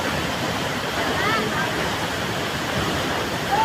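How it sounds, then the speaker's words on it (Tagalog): Rushing water from a waterfall roars steadily and fairly loud, a broad continuous wash of noise close by, with no speech over it. "Oh, nasa falls na."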